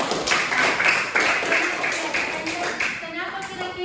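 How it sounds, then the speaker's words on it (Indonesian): Classroom clapping for a student during a junior high science lesson, a busy mix of many hands clapping unevenly with children's voices chattering underneath. "beri tepuk tangan dulu untuk Anda"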